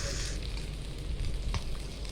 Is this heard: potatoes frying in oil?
yes